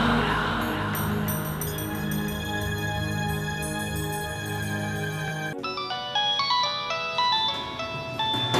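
Mobile phone ringtone for an incoming call in a domestic drama scene, a loud melodic electronic tune that plays steadily and then shifts into a brighter repeating chime pattern, alone without talk.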